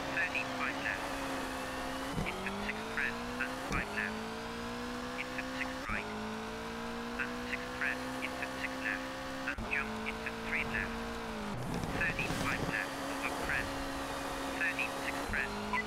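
Rally car from Colin McRae Rally 2.0 roaring along with a steady engine drone, dropping in pitch several times as it brakes and shifts, with faint skids and a voice talking over it.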